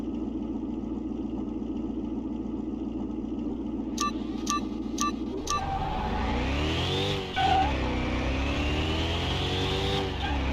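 Racing engines in Car Mechanic Simulator 2021, an Audi R8 against a BMW: a steady idle hum and four quick clicks, then a loud rev that climbs and dips through several gear shifts, sustained and close.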